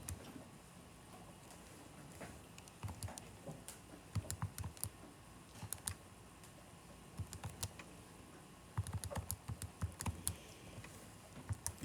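Soft, quick clicks of small calculator keys being pressed as numbers are entered, in irregular bursts, close and quiet, with short pauses between runs of taps.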